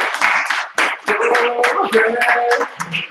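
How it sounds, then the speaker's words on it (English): Applause for a presenter at an information session, a few scattered claps from a small group mixed with cheers and lively talking. "everyone give him a round of applause."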